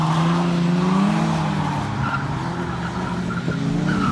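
A car drifting on a track squeals its tires loudly and continuously with the engine droning beneath, the screech rising and wavering as the car slides through a quick lap.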